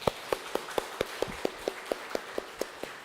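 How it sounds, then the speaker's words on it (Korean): A church congregation claps in thanks during a Sunday Liberation Day service, producing a steady, evenly spaced run of about a dozen sharp claps in a reverberant hall. "우리나라 광복해 주신 하나님께 우리 감사의 박수로 한번 올려드립니다"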